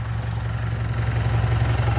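A used six-wheel diesel truck's engine runs close up with a deep, rhythmic chugging throb that builds slightly as it is revved.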